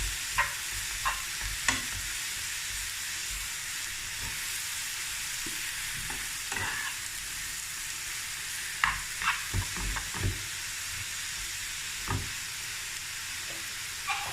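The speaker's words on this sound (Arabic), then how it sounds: "غادي نحركوهم مزيان، نخليو حتى تنزل هاد القرعه ديالنا هي خيزو، ونزيدو عليهم الثوم" Pumpkin and vegetables with garlic frying in a pan while being stirred, a steady sizzle broken by repeated scraping stir strokes, close and fairly loud with no voices.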